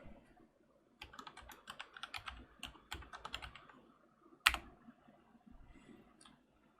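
Quick bursts of clicky keystrokes on a computer keyboard, irregular and close, with a sharper clack near the middle and a few softer taps trailing off afterward.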